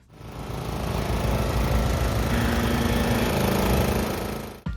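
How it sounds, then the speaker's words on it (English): Vintage lawn mower engine pulling a hayride trailer at a racetrack endurance event, a loud, close, steady buzzing drone that swells, holds and then cuts off abruptly. "This year they added a new, let's say, vintage lawnmower to the fleet with a hayride trailer."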